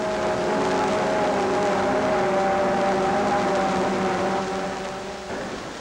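Vintage stock-engine Mercury outboard racing boats at a race approach a starting line, a loud, sustained droning engine roar with steady tones that fades slightly toward the end.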